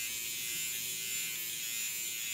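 An electric face shaver hums steadily close by, a constant high buzzing drone with no pauses and no voices.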